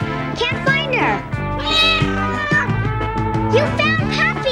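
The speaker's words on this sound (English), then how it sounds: "I heard her meowing" Loud, close cat meows, several drawn-out cries one after another, mixed with people talking over them.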